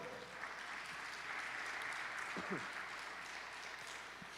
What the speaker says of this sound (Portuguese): Um aplauso para Jesus bem forte.